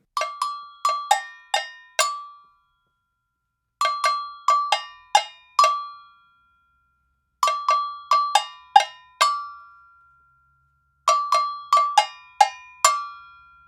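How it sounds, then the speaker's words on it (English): A bright two-tone metal agogo bell plays a crisp syncopated pattern, several quick strokes per phrase, repeated four times with short gaps between, alone and clear. "The bell part for the groove section sounds like this."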